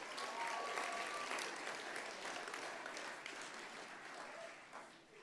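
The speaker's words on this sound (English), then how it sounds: "How about one more big round of applause for Danny Sams and his family?" Audience at a racing championship awards banquet applauds, a broad sustained wash of clapping from many hands that gradually fades toward the end.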